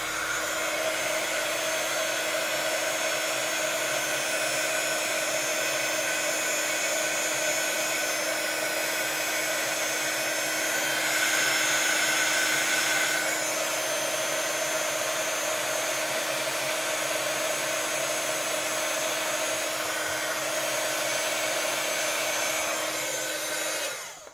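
A heat gun blows hot air steadily over a product to give it a glossy finish, a continuous loud whooshing roar that holds for the full length with only slight swells and no talking.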